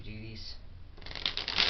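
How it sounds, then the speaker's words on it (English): A deck of playing cards being false shuffled by hand for a simple card trick, giving a soft riffling patter that builds louder toward the end, with quiet background murmur early on. "just do a couple of false shuffles, but make sure that you keep this card on the bottom"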